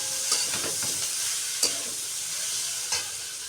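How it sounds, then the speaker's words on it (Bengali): Small cut potato pieces fry in a pan with a steady close sizzle, punctuated by a few sharp scraping stirs of a spatula at irregular moments. "ছোটো আলুটা ছোটো ছোটো করে কেটে নিয়ে ভাজা বসিয়ে দিয়েছি"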